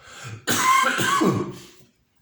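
One harsh, raspy cough from a person with a cold and runny nose bursts out up close and loud, trailing off into silence, with no talking around it.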